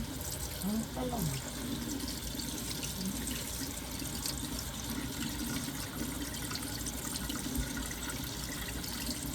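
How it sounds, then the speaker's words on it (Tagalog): Eggplant is washed under a running kitchen tap, a steady, moderately faint stream of water splashing into a sink, with a voice faintly audible near the start. "Hugasan na natin ang talong."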